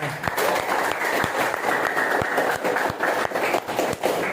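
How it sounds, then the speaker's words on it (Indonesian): A school class claps together, a dense steady patter of hands in a classroom lasting several seconds, with a few sharper taps standing out and faint voices underneath. "Bagus, tepuk tangannya"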